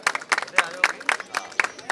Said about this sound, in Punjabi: ਇਹਨਾਂ ਲਈ ਬਹੁਤ ਵੱਡੀ ਤਾੜੀ